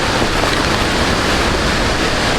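At La Fortuna Waterfall in Costa Rica, falling water and a stream make a loud, steady, broadband roar with no break, close by and with no voices.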